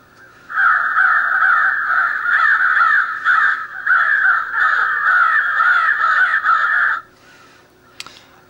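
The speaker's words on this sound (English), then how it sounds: "The one I like is the crow frenzy." Cass Creek electronic crow caller playing its crow frenzy call: loud, continuous raucous cawing from many crows that runs for about six and a half seconds, then cuts off into near silence.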